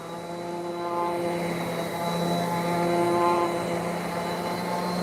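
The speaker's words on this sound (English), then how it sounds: "furnace motor, a furnace blower motor" Furnace blower motor powering a downdraft dust-collection table in a woodworking shop, giving a steady, loud droning hum with a constant tonal whine, running continuously and alone without pauses.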